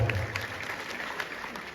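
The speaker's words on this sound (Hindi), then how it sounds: "उनके सम्मान में अब एक बार जोरदार तालियां" Audience at a Hindi comic poetry gathering clapping in honour of a poet, a short burst of dense, moderately loud applause heard alone.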